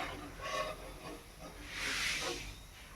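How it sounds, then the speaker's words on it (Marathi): Soft, steady hiss of potato peel chips frying in hot oil, faint and close, swelling slightly in the middle. "व हे बघा, अशा प्रकारे तळून घ्यायचे"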